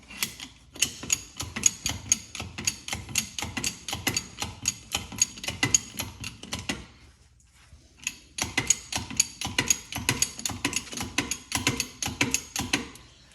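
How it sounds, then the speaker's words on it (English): Jack ratcheting under the front suspension of a 2001 GMC Yukon during a shock replacement, rapid rhythmic metallic clicks in steady strokes, a brief pause, then more clicking, close and clear. "So let's get to jacking."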